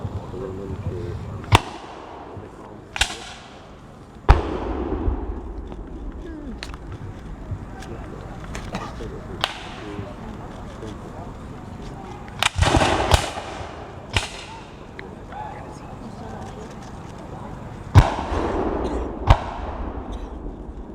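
Rifled muskets firing at a Civil War reenactment of the Battle of the Wilderness at Zoar in 2019: about ten sharp, loud reports at irregular intervals, some echoing, with people talking between shots.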